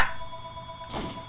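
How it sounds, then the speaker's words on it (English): A telephone rings in the video game Nazi Zombies: a short bright electronic ring over a low hum of game ambience, with a second burst near the end. "The phone is ringing."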